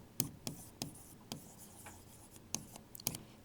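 Chalk or marker tapping and scraping on a classroom board during a digestive system lesson, a series of about eight short distinct strokes at uneven intervals, close and soft with no speech.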